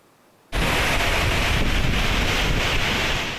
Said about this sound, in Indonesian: detik-detik angin kencang disertai hujan deras melanda perkantoran Kabupaten Bandung Barat